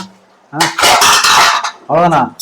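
A spoon scrapes and clanks around a metal pot of boiling broiler chicken curry in two loud bursts of stirring, separated by a brief pause.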